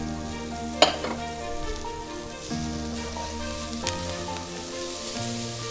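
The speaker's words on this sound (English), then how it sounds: "now we're going to add our fresh herbs. This is fresh chopped parsley and green onion." Fresh chopped parsley and green onion hit a hot pan while cooking lima beans, giving a steady close sizzle with a sharp crackling burst at the start and light stirring scrapes throughout.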